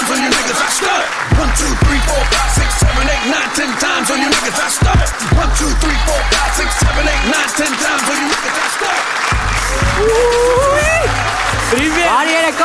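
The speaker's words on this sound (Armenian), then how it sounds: "ձեր բարձր ծափարությունները" Loud, sustained applause from a comedy show audience, dense clapping filling the room with a few brief dips and cheers mixed in.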